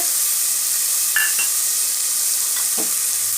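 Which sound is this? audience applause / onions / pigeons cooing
onions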